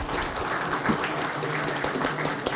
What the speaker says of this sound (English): Please give them another big applause for their contributions.